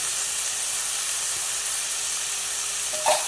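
Chopped vegetables and beans sizzle steadily in a hot pan for vegetable fried rice, a constant bright frying hiss with a small stir clatter near the end, no voices.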